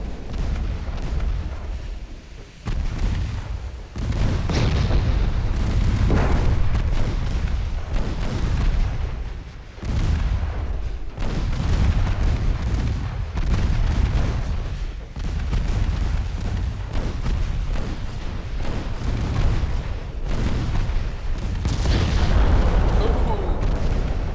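Heavy battleship gunfire and shell impacts from a naval battle in Ultimate Admiral Dreadnoughts, a dense, continuous run of deep booms and rumbling blasts with a few short gaps, loud and close throughout.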